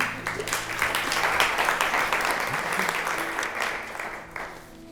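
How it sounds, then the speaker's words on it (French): Church congregation claps together in a steady, moderately loud round of applause lasting several seconds, tapering slightly at the end. "On peut les applaudir."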